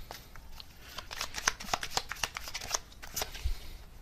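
Tarot cards shuffled and drawn from a deck during a reading, a quick run of crisp papery riffles and flicks, close and fairly quiet, with no talking over them.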